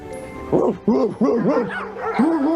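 A dog barks loudly in a rapid series of sharp, close yelps and bow-wows, several in quick succession with brief gaps, filling the short stretch with insistent noise.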